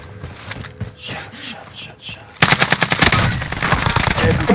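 Gunfire in a video game: a quieter stretch with faint voices gives way to loud, rapid automatic bursts that continue densely to the end.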